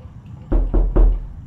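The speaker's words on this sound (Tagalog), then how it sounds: "Huwag na kayong kumatok." Three heavy, closely spaced knocks thud on a door in the sleep-paralysis psychological horror game Silent Still, loud and near against a quiet, low background hum.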